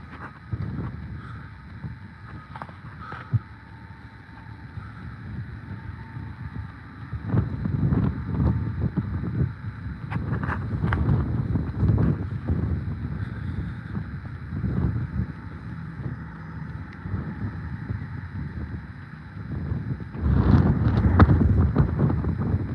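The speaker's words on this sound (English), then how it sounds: "it's windy today." Gusts of wind buffet the microphone in rough, rumbling surges, strongest in several bursts, with faint outdoor sounds behind.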